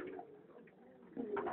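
Buchón Manchego pigeons coo softly in a low murmur that runs throughout. The cooing grows a little louder near the end, with faint background noise.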